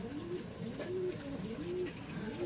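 A Chennai bloodline pigeon coos repeatedly in a close, soft rhythmic series of low rolling calls over faint room noise.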